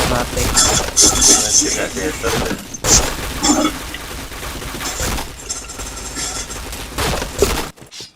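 Gunfire in a shooter video game, with bursts of shots and sharp impact cracks crowding a dense, loud mix while a player talks excitedly over the action.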